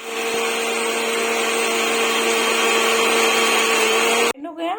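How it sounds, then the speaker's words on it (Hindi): A mixer grinder whirs loudly and steadily while grinding garlic and dried red chillies for an Odia-style mutton curry, a constant high motor drone that stops abruptly near the end before a voice begins to talk. "ये लहसुन और ये जो सूखी मिर्च है ना उसको भी डाल दे रही हूँ इसमें। और अभी मैं इसको ग्राइंड कर देती हूँ।"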